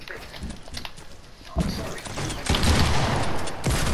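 Rapid bursts of gunfire in an online shooter video game, the dense volleys swelling loud after a quieter start, with players talking over the shots.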